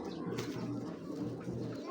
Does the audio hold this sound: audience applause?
no